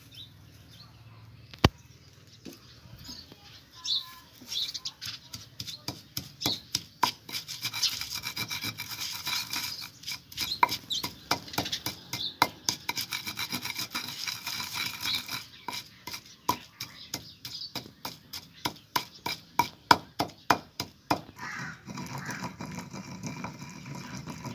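Mint and coriander with a little salt being ground into a tomato chutney, heard as a long run of rhythmic, close rubbing and grinding strokes at moderate loudness with no talk.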